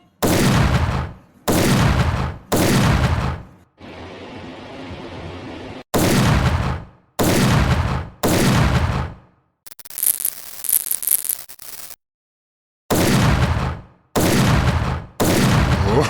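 Cartoon gunfire effects ring out in loud, sharp repeated bursts, separated by short gaps, with a patch of static-like noise and a brief stretch of quieter clatter between the volleys.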